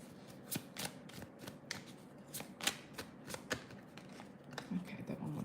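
Oracle cards being shuffled for a love reading: quick, papery riffling snaps in an uneven rhythm, close and fairly quiet.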